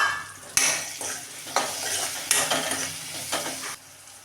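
Brinjals sizzle as they fry in a pan at home, with a spoon scraping and stirring in several distinct strokes over the steady crackle; no one speaks.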